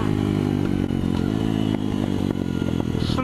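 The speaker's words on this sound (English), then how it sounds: "Oh, too low revs, too low revs. You should have gone down again." A small mini bike engine revs loud and close on a race track during a track day, a steady buzzing drone with brief throttle changes and rattly clatter, with no talk over it.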